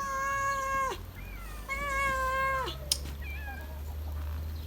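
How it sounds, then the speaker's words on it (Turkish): Several cats meow close by, three drawn-out, wavering cries with a quieter chirp near the end and a low hum underneath, indoors. "İçeride bir sürü kedi var."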